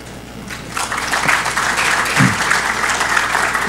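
An audience at a security conference talk breaks into steady applause, a dense patter of clapping that builds quickly and holds for a few seconds.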